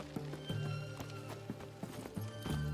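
The horse in The Witcher 3 gallops with a rapid, rhythmic clip-clop of hooves under game music and ambience, steady and fairly close throughout.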